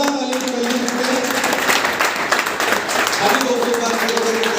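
Enthusiastic applause from a crowd welcoming a speaker at a live training session, continuous dense clapping from many hands, loud and sustained throughout, with a voice speaking over it.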